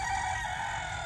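A mixed-breed mutt rooster crows, a single sustained loud call that holds steady for about a second close to the listener.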